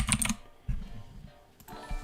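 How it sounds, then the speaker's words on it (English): Fingers type on a mechanical computer keyboard, giving a soft, steady patter of clicks at close range, fairly quiet, with no voices. "I actually love the sound of the mechanical keyboard."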